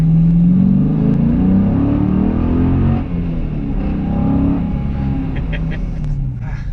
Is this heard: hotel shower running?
no